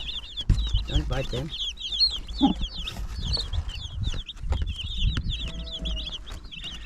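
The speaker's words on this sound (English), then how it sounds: "Come on, say hi to the chickies." Backyard chickens cluck in short, close bursts over steady bird chatter, while someone speaks to a nearby dog.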